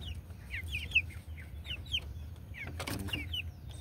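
White Kelso pullets give a run of short, high chirping clucks, close and repeated, with a brief rustling clatter partway through and a low hum underneath.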